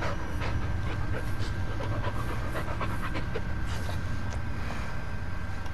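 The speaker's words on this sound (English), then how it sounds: "Yeah, good dog." A dog pants steadily and close by in the Blair Witch video game, rapid breathy puffs running through the whole stretch over a low rumbling game ambience.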